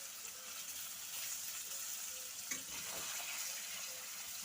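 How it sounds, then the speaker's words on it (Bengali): Paneer cubes fry steadily in a pan with a continuous soft sizzle and hiss, a moderate level throughout with occasional faint stirring. "তো পনিরটাকে একটু ভালো করে ভেজে নেব।"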